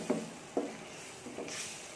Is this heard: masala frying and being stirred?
yes